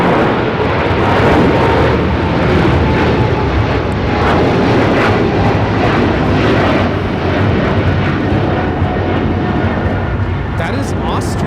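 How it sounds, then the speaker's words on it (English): An Austrian Airlines Boeing 777-200ER jet takes off from Los Angeles LAX with a loud, continuous, dense engine roar that stays powerful and steady throughout, with a voice talking over it. "That is Austrian Airlines Flight 82 taking off to Vienna on the 777-200ER"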